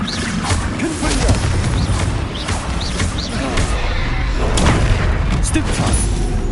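Confringo explosion spells in Hogwarts Legacy combat, loud booms and crashes going off repeatedly amid other spell impacts, with shouted spell incantations over the din.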